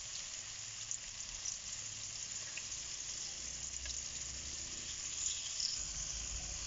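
Constant hissing sizzle of banana frying in hot oil in a pan, steady and close throughout, with faint crackles and no speech.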